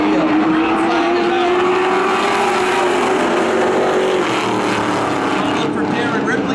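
Race cars roar off the green flag in a Coastal 200 heat race at Wiscasset Speedway, a loud dense engine howl with rising pitch from the pack, under an announcer's voice.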